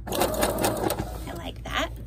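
Sewing machine stitching across a tear in a paper strap, a steady close mechanical whir and rapid needle rattle running continuously through the short clip, with some voice beneath.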